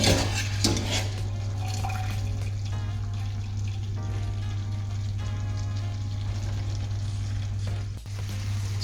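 Drained penne pasta drops into red arrabbiata sauce, producing a steady wet sizzle with clinks of a pot and utensil, a constant low hum running underneath throughout.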